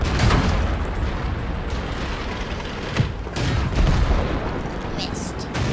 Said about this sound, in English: We're getting targeted by artillery